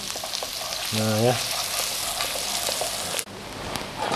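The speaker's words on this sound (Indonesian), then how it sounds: "kita tumis sama minyak wijen dulu nih dikit ya" Ingredients stir-fry in sesame oil in a pan, a steady close sizzle running throughout with a brief spoken remark and a short tonal beep early on.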